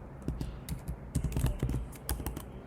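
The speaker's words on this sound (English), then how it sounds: "I was typing from there" Rapid, uneven keystrokes on a computer keyboard clatter close by in bursts with short pauses, while someone codes an AI note-taking SaaS app in Next.js and TypeScript.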